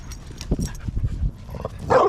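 A dog barks and yips in short, close bursts with a whimpering edge, loud and alone without any talk, in a moment on a road trip in a 1987 Chevrolet Suburban.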